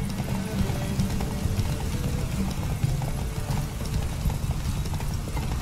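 A horse gallops in a horse race in the video game Witcher 3, with rapid, continuous hoofbeats pounding steadily and close.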